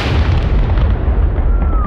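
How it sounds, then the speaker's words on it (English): A massive explosion in the video game Six Days in Fallujah, a loud deep blast with a long rumbling tail that fills the whole moment, with a faint high whine ringing underneath. "Why was that bigger than the building explosion?"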